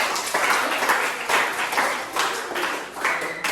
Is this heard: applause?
yes